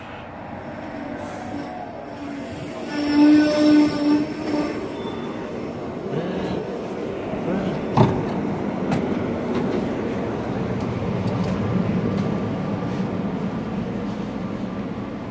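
SEPTA train with Silverliner V cars pulling into New Britain Station, a steady rumbling roll with a squealing tone early on and a sharp clank midway, close and loud with no talk.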